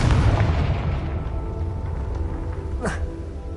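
A Confringo spell explosion in the video game Hogwarts Legacy: a loud, deep boom at the start that decays into a rumbling tail, with a brief whooshing sweep near the end and voices partly mixed in.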